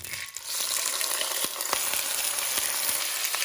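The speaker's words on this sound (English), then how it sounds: "Once that avocado oil is hot, we are going to sear each side of beef bones." Beef bones sear in hot avocado oil, producing a dense, steady sizzle with scattered crackles and pops, close and continuous with no talking.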